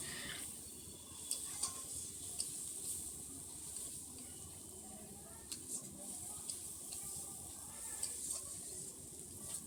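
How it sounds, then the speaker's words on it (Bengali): Spice paste with turmeric and green and dried chilies fries in a pan for a Bengali chicken curry, giving a soft steady sizzle with occasional light scrapes of stirring and faint background voice. "ভালো করে একটু কষিয়ে নিচ্ছি"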